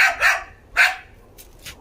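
A dog gives two sharp, loud barks about half a second apart, close by, then a couple of fainter yips trail off.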